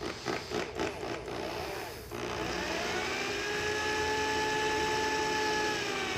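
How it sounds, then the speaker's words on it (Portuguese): A 4 mm drill bit bores a hole in a homemade angle bevel gauge, opening with a few short bursts before settling into a steady, close whine that runs on unbroken. "Eu vou fazer o furo com uma broca de 4 mm aqui"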